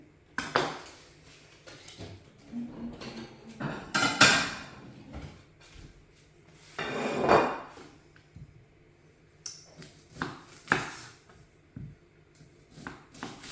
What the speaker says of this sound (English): In first, we will cut the onion.